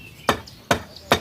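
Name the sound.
hammer driving a stubborn nail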